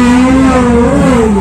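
A BMW S 1000 RR 1000cc superbike engine revs loud and close, a sustained high-pitched roar that rises and wavers through one continuous rev with no talking.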